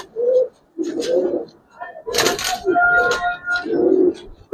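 Giribaz and racer pigeons coo loudly and close by in a loft, with a series of repeated, rolling coos separated by short pauses and some wing-flutter or rustling in the middle.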